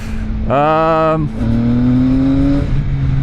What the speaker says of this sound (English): it's the exhaust sound that is really it has volume